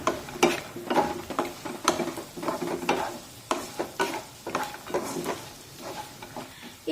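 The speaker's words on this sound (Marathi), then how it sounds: "अर्धा चमचा लाल मिरची पावडर टाकूया थोडस परतून घेऊया" Red chili powder sautéing in a pan for Maharashtrian vermicelli upma, with a steady sizzle under repeated scraping stirs of a spoon against the pan, close and moderately loud, no talking.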